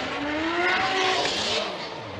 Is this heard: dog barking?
no